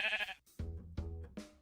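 Minecraft sheep bleat three times in quick succession, each call short and wavering, clear and alone after a brief burst of other noise at the start.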